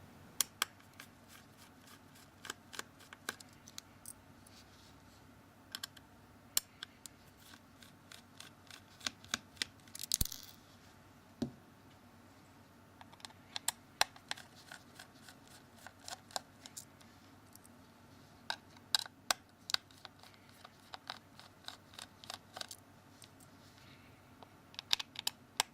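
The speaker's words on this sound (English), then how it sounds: "Now we need to undo 7 of these Phillips screws." Small Phillips screwdriver undoing tiny screws on a Samsung Galaxy S2 phone during disassembly, a scattered series of faint close ticks and clicks with irregular spacing and one louder clack midway, no speech.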